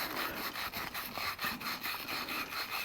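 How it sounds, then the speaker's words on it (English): Small wire brush scrubbing inside a PEX plumbing adapter to clean the surfaces, a rapid, rhythmic back-and-forth scratching with close, steady strokes throughout. "I have a little wire brush here. Just want to get inside there."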